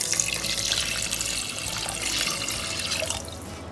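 Running water pours steadily into a pot, a continuous splashing rush that tapers off near the end.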